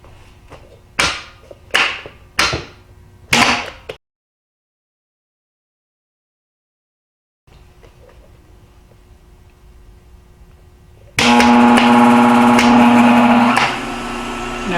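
A home-built rotary phase converter for three-phase shop power clicks and thumps as it is plugged in, goes quiet, then spins up into a loud, steady electrical hum with a strong low tone.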